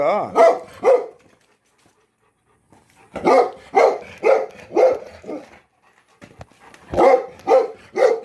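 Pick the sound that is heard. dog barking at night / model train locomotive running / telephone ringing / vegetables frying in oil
dog barking at night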